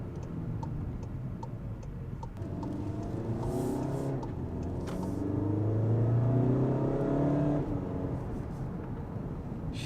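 A Volkswagen Golf 7 car engine rumbles and builds as it accelerates, swelling louder midway, with faint ticking clicks early on.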